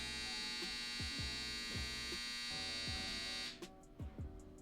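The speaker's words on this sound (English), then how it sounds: "If you can hear that, that's my dryer." A clothes dryer hums steadily indoors with regular rhythmic thumps from the turning drum, then the drone cuts out near the end, leaving a few fainter knocks.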